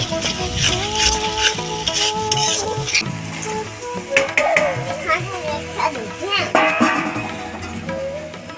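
Potatoes and peas for ghugni sizzle loudly in a wok as they are stirred, with scraping and clanking of a spoon against metal, under someone talking and children's voices in the background.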